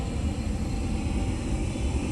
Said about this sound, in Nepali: यसरी उड्दैछ जहाज, उड्दै गरेको अवस्था